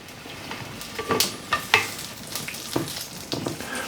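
Chili peppers sizzle in a pan while they are seasoned, with a low steady fry under a few sharper crackles and pops.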